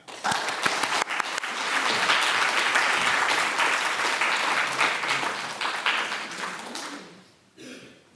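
Audience at a Tuesday evening talk at the Modern welcoming painter Katherine Bradford with a swell of sustained applause that holds steady, then thins out and fades, a last few claps trailing at the end.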